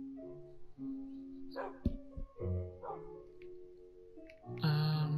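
Dogs in the Minecraft video game give a few close, short barks and yips with whiny tones, scattered irregularly, ending in a louder bark.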